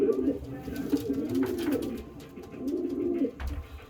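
Racing pigeons coo softly in a winter breeding loft, low rolling calls repeating close by over a faint background murmur.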